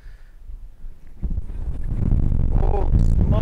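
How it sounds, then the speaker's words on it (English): Wind gusting across a small lake during late-summer crappie fishing, a broad low rumble that builds from moderate to loud and steady, buffeting the microphone, with a voice speaking briefly partway through. "Oh, smokes, this wind"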